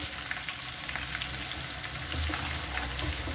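Crushed garlic cloves, still in their skins, sizzle in hot oil with curry leaves and asafoetida powder while a chilli pickle is being made; a steady, close crackling fry runs throughout with no talk.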